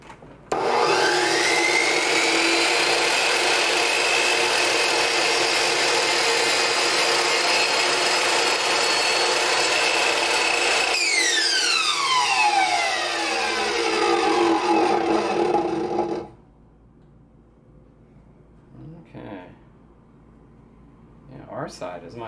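A power saw with a fine 96-tooth blade cuts wood during an archtop guitar repair. A loud, steady high whine runs for about fifteen seconds, then winds down and stops, leaving faint knocks afterward.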